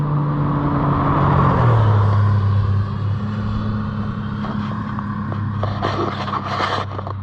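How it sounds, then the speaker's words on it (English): A John Deere Gator 835 side-by-side runs on its three-cylinder engine, giving a quiet, smooth, steady hum with a low tone that drops in pitch, and faint scraping and clicking on top. "It's amazing that 3-cylinder engine is so quiet and so smooth"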